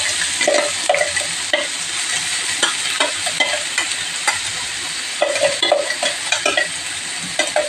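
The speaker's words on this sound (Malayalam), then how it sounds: "നമുക്കത് വരെ അതൊന്ന് വഴറ്റി കൊടുക്കണം" Crushed coconut being sautéed in a pan with shallots, curry leaves and red chillies, a steady close sizzle with repeated scraping and stirring strokes throughout.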